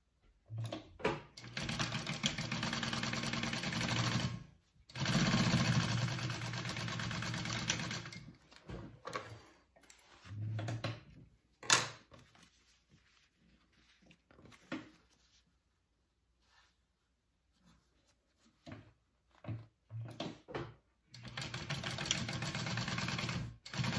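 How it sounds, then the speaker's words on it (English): A sewing machine stitches quarter-inch fabric seams for a sling, running in several loud, steady rattling bursts separated by pauses and quiet handling noises. "you're gonna sew those at a 1/4 inch seam allowance on each side, and then you're gonna flip them over and top stitch"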